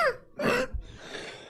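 A single harsh cough bursts out near the mic, preceded by a short throat sound and followed by soft breathing.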